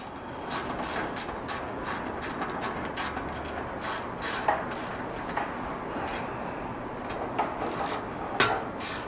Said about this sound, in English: And then I want to just tighten one bolt down to lock it in place.